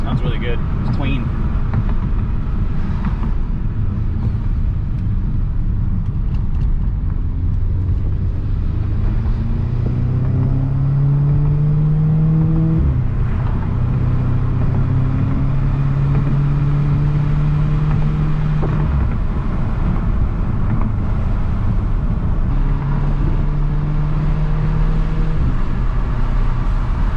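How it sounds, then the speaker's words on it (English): Exhaust of an Audi S3 with a Top Gear Tuning downpipe, picked up from the trunk area, pulls through several rising gears with rumbling tone and brief drops between shifts, under steady cabin speech. "GoPro on the back, in the trunk area for some actual good exhaust sounds."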